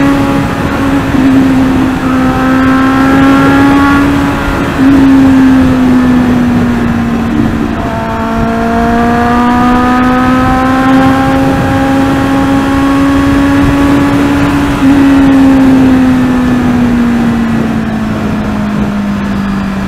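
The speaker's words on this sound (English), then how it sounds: "I'm sure this motorcycle can do way over 200 kilometers an hour." A Kawasaki Z800 motorcycle speeding along a highway, its engine holding a loud, steady high-revving drone that rises and falls through gear changes, with wind roar throughout.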